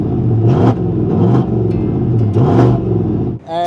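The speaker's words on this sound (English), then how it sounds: "we put on an MBRP exhaust. It's a catback exhaust system." A 2023 Chevy Silverado 1500 LTZ with an MBRP catback exhaust and an added intake revs in two or three short, loud, deep blips, heard up close with no talk.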